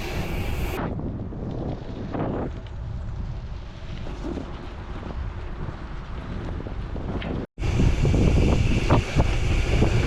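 Strong wind gusting to 50 roars steadily across the microphone with buffeting gusts during a gravel bike ride near a forest, briefly cutting out before rushing back in even louder.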